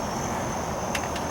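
The motor of an Optronics Motion Pro 1000 boat spotlight runs with a thin, steady gear whir and a couple of faint ticks, cheap and toy-like, close and alone without talk.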